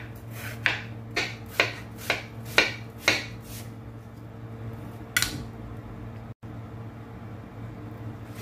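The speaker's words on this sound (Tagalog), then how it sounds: "Hiwain natin po ng sobrang nipis." An apple being sliced very thinly with a knife, a series of about six crisp, evenly spaced cuts against a board, close and clear, followed by a single louder knock.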